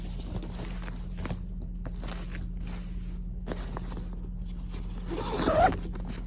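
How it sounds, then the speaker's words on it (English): A packed moving bag or container is zipped shut, with faint scraping and rustling building to a louder zipper pull near the end, close by and without talk. "I'm going to see if I can zip it shut."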